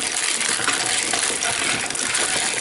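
Rice grains pour and rattle through a hand-operated hulling device, a dense, steady hissing patter of dry kernels and loosened hulls, close and continuous.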